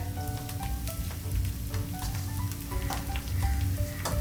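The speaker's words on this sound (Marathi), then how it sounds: "राई छान तडतडू द्या।" Mustard seeds splutter in hot oil for tempering, a close, busy crackle of rapid pops and spits over a steady sizzle that persists throughout.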